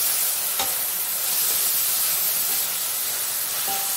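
Two tomatoes sauté in a hot pan for chicken kari dosa, making a steady, close hissing sizzle with a brief clink of a utensil early on and another faint one near the end.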